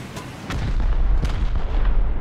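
A rocket launcher fires in the video game Rust, a loud booming blast with a deep rumbling tail that swells and holds, close and with no talk.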